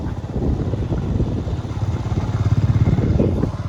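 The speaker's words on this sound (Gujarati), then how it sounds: "અને પાછળ આવે છે બીજી બાઈકો પણ આપણી." Several motorbikes ride along a track through the Gir jungle, their mid-pitched engines rumbling steadily and pulsing as they pass nearby.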